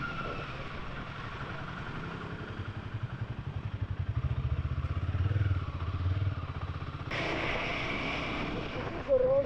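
A Royal Enfield Himalayan motorcycle riding on a road, recorded from a helmet-mounted camera: a continuous engine drone with pulsing low rumble and wind noise, the tone rising and brightening toward the end.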